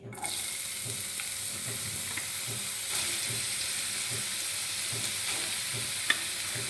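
Thin raw potato strips hit hot white oil and fry with a sudden, steady crackling sizzle that holds evenly, close by, with one brief sharp tap near the end.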